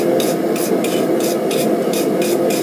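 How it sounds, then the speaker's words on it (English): A bristle brush scrubs slag off a hot forged metal leaf for a key chain. It makes a loud, steady rasping with regular scraping strokes repeating about three times a second. "We're going to take that bristle brush,"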